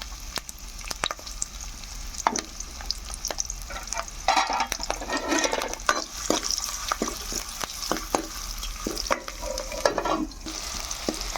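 Chopped onions and curry leaves fry in hot oil for a tuna fish curry, a steady close sizzle broken by frequent scrapes and clatters of a spoon stirring the pan, with no talking.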